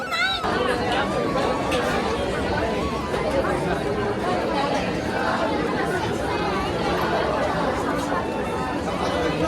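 Dense crowd chatter fills a long queue of devotees at the Jejuri temple, a steady, close hubbub of many overlapping voices with no pauses throughout.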